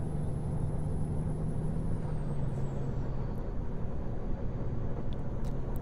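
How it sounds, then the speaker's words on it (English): Engine of a Peterbilt 389 truck in the game American Truck Simulator: a steady, loud low diesel drone with a constant hum, running continuously under a broad wash of road noise with no talking. "And of course I still have the realistic truck sounds"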